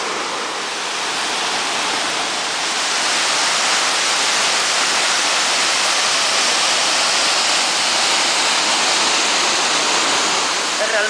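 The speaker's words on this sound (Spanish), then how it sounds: "Es realmente imponente esta cascada en el medio de la jungla tropical" A powerful waterfall in a tropical jungle in Bali roars as a steady, loud, dense rush of water, continuous and close, with no voices over it.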